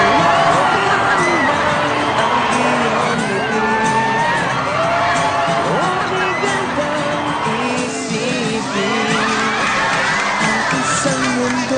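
A wedding crowd in Aklan cheers, whoops and shouts as the bride steps out of the bridal car, a loud, continuous roar of many excited voices with scattered yells.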